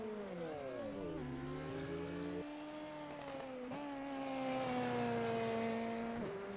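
Open-wheel race cars of the ABN Hyper Formula series rev hard at Elkhart Lake while drivers practice standing starts, engines rising and falling through several gear-like pitch sweeps in a steady, continuous roar from a moderate distance.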